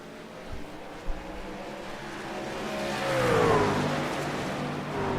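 Race trucks roar through a Lake Huron 150 race, the engine note dropping with a gear shift and then climbing as the revs rise and sweep past, loud and steady with no talk.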